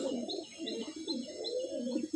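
An Andhra pigeon in a loft coos in soft, repeated rolling phrases close by, a steady rhythmic series of low murmuring calls with faint chirps above.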